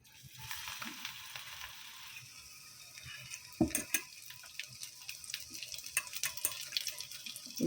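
Batter-coated mushroom pakoras with ginger-garlic paste dropped one by one into hot oil, a close, continuous bright sizzle with crackles and bursts as pieces go in, fairly quiet overall.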